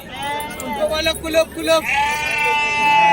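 Sheep at the Kashti sheep market, bleating with wavering cries among a crowd, while people talk close by.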